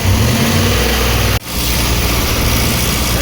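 A Hemi engine with an odd noise revs loud and close, a steady dense rumble that drops out abruptly for an instant before picking back up.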